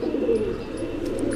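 A pigeon coos steadily in a low, continuous throaty murmur, close and fairly loud, with faint high chirps sprinkled above.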